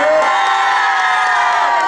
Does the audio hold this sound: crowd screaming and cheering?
yes